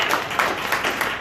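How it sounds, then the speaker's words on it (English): Audience applause breaks out at a Carrollton neighborhood meeting on short-term rentals, a brief burst of many hands clapping with uneven, overlapping rhythm at moderate loudness. "I'm glad to see that you got the applause"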